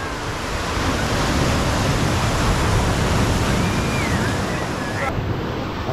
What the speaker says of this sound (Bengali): ওই ঢেউটা আসছে একদম ধরে রেখেছি।